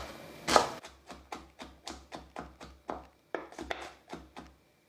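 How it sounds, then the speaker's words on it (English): Beans are chopped with a knife on a board: after one louder rustling thump come a steady run of sharp, evenly spaced taps, near and moderately quiet, with no voices. "I'm finally chopping the beans."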